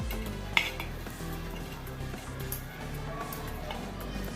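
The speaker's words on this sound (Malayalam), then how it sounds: "എല്ലാ മധുരക്കിഴങ്ങും ഇതുപോലെ തിരിച്ചിടണം" Sweet potatoes being turned over one by one in a pan while roasting without coals: light clinks and scrapes of a utensil against metal, with one sharper knock early on and a faint sizzle underneath.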